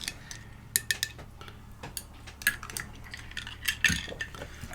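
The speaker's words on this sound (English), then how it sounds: "So you give it a good stir." A spoon stirs bourbon cream in a glass, producing light rhythmic clinks and taps of metal against glass, close and fairly quiet, with scattered rustling between.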